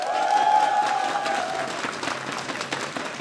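An esports final crowd applauds after a player is called up in a StarCraft league final, a steady moderate wash of clapping that slowly fades, with no talk over it.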